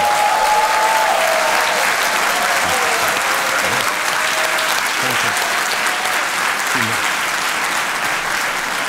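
Studio audience applauding steadily to welcome comedian Torsten Sträter onto a German TV reading show, dense continuous clapping at even loudness throughout.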